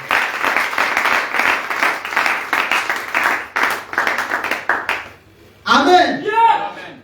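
A church congregation breaks into sustained clapping and applause for about five seconds, loud and dense, fading before a brief voice speaks near the end.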